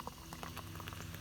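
Soda fizzing in a glass as bubbles dissolve drink powder, a dense close crackle of tiny popping bubbles, steady and alone with no voices.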